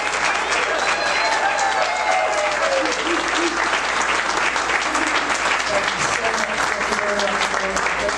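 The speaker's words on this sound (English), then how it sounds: "let's give him another round of applause to our next Virginia Senator from the 6th Senatorial District, Ben Loyola" Sustained, steady applause from a crowd at a Republican get-out-the-vote event in Virginia Beach for a Virginia Senate candidate, even and unbroken from start to finish.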